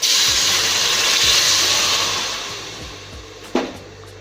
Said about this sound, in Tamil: இதில் நான் தண்ணி சேர்க்க போகிறேன்.